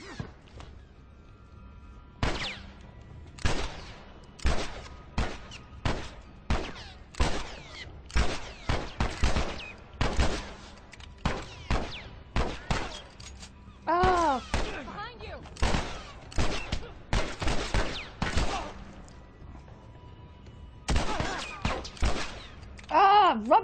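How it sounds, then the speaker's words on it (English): Gunfire from The Last of Us video game: a long series of sharp, loud shots in irregular bursts, some close together, with brief pauses between, and a few strained vocal grunts from game characters mixed in. "Use the fucking gun."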